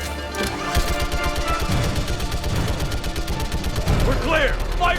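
Rapid automatic gunfire rings out in the Mass Effect 3 video game as a steady, loud stream of shots. Game voices and effects mix in toward the end.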